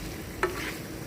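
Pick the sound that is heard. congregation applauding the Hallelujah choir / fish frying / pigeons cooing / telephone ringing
fish frying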